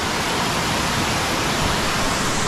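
Water pours over a full dam in a steady, roaring rush of broadband noise, close and unbroken.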